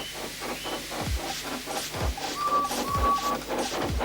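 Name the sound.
steam locomotive puffing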